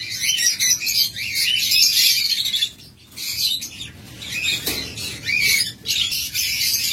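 A pair of master-pair lovebirds, the hen carrying eggs, squawk and chirp loudly and close by in dense, overlapping bursts that break off briefly before starting again.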